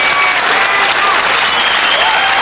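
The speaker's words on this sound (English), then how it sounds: "he's getting a big round of applause, Mark Jarvis is, for a gallant battle and a unbelievable try" A big round of applause from the crowd at a 1995 World 8-ball semifinal pool match for Mark Jarvis, loud, dense and sustained clapping throughout.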